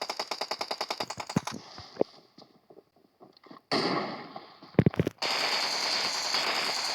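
Gunfire in the video game PUBG during an arena match: a rapid automatic burst, then scattered single shots and pops, ending in louder sustained firing, no talking.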